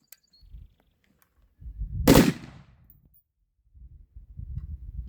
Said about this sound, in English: See if I can dump the rest of this mag.